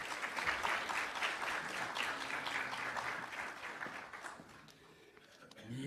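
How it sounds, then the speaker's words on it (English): Audience applause at an annual lecture on education for peace in Pakistan: a sustained round of clapping from a seated crowd, fairly distant, tapering slightly toward the end. "can I ask you all to join me in applauding"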